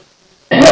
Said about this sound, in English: Excuse me, I've got to have a cough.